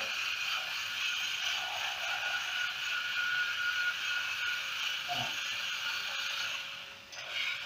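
A remote-controlled grass cutter runs with a steady, high-pitched motor whine that continues unbroken throughout as the machine drives forward, fairly close and without speech.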